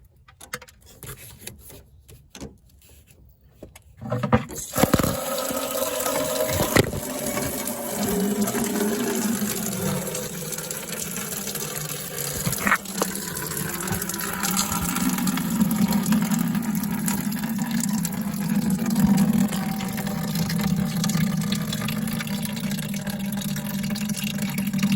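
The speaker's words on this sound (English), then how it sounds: "After you loosen the petcock and start draining the fluid into a bucket or drain pan" Engine coolant from a 12-valve Cummins drains out of a loosened petcock into a drain pan, a steady splashing trickle that starts suddenly after a few seconds of handling noise and runs on continuously.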